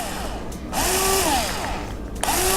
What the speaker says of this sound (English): we'll go ahead and drill through the bottom